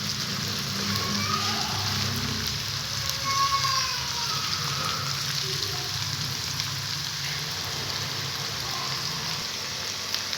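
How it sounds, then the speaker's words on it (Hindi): Ginger garlic paste fries in a pan, making a soft, steady sizzle that continues throughout with faint bubbling and crackling at a low level. "हमारा जो अदरक लहसुन का पेस्ट है वो तकरीबन हाफ़ तक फ्राई हो चुका है"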